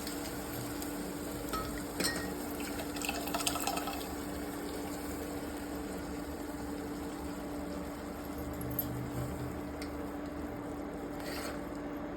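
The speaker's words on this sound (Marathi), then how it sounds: "आणि यात आपल्याला थोडं पाणी टाकायचं आहे" Water poured into a cooking pan of chilli and dal curry, a steady close trickle and fill with a few light clinks, running evenly throughout.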